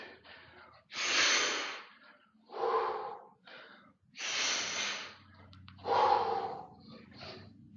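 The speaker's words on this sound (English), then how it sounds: "And now breathe." Deep breaths during a yoga strength flow: four slow, breathy inhales and exhales in a steady rhythm, each lasting about a second, close and fairly loud with short pauses between.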